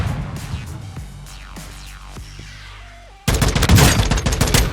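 Rapid automatic gunfire from a John Wick-style customized gun in a video game bursts loudly near the end, following a stretch of quieter game sounds and scattered shots; the firing is dense and sustained.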